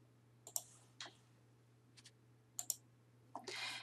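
Computer mouse clicks on a search button, several crisp, quiet clicks in short pairs and singles against a faint steady hum, with no talking.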